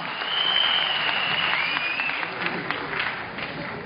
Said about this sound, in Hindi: मैं चाहूंगा एक बार जोरदार तालियों पर मिस्टर बीपी यादव का